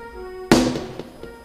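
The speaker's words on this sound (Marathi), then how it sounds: "आत्ताच फटाके वाजू नका." A single sharp firecracker burst close by, followed by a rattling decay and a couple of smaller pops, heard over a faint steady tonal hum at a religious story-telling gathering.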